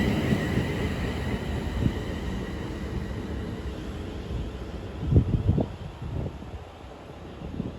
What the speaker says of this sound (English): 1213 London Northwestern Railway says to Tring from London Euston 350-405 taxi away.